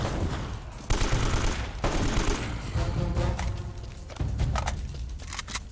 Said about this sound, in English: Kalashnikov.